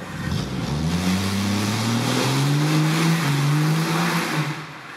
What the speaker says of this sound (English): I'm out here with my 1970 Challenger. It's a back roads in the forest, testing it out real quick.